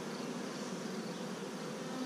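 Honey bees buzz in a faint, steady, close swarm hum during a hive inspection, with no voices over it.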